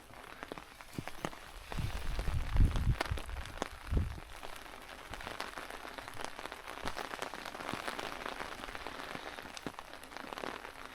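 Steady rain pattering on leaves and ground along a wet, rocky creek-side hiking trail on a rainy day, with a dense continuous hiss of drops and a few louder low thumps near the start.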